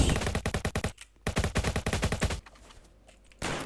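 Rapid bursts of video game gunfire, including shotgun blasts, crackle loud and close in two dense volleys of quick repeated shots, then drop to a quiet gap before a final short burst.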